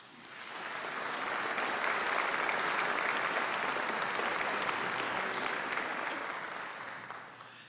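An audience at an MIT alumni Tech Day event applauds to welcome a speaker to the stage, a dense wash of clapping that swells in, holds steady for several seconds and fades out, with no talk over it.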